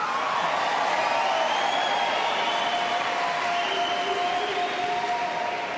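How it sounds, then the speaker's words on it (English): Audience applause at a 2011 Republican presidential primary debate, a steady dense wash of clapping with some cheering that holds for several seconds before easing slightly. "Waiting for the applause, Speaker Gingrich."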